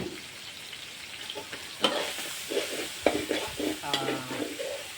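Garlic frying in oil in a pan, stirred until golden: a steady low sizzle with irregular scraping strokes of a spatula, growing busier toward the end, close and moderate in level.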